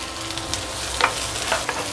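Chopped capsicum sautés over a medium flame in a pan for chicken Manchurian, a continuous near sizzle broken by a few light scraping stirs.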